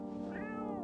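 A cat in a video game lets out one loud, drawn-out meow when picked up, rising and holding over a steady background hum.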